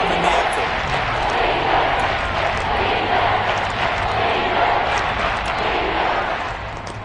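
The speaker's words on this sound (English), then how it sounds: "That just means this crowd's going to get even louder." Football stadium crowd at an NFL game against the Vikings, a loud sustained roar of many voices that holds steady throughout and eases slightly at the end.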